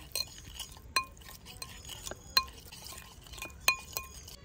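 Salt, chili powder, turmeric and ginger-garlic paste are being mixed with eggs in a bowl for egg tandoori masala, giving repeated light scraping and clinking strokes of a spoon against the dish.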